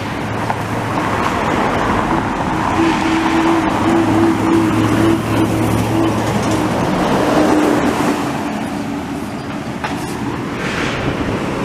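Heavy traffic on Boulevard Pie-IX in Montreal's Rosemont–Hochelaga area: a continuous, loud roar of passing vehicles with engine drones and tonal hums rising and falling.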